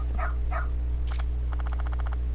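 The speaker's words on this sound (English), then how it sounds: "Aw, what a cute doggy." Dog barking in the Lost Judgment video game: two short yelps, a sharp higher bark, then a rapid string of about ten quick yaps, close and clear over a low steady hum, with no talk.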